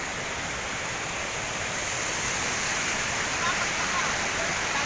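A constant rushing roar of a flowing river fills the whole clip, steady and broadband, with no voices.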